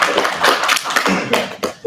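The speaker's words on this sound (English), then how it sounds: "I expected you to give us a hand of applause" Audience at an evening talk event clapping in a short burst of applause, dense hand claps that fade out near the end.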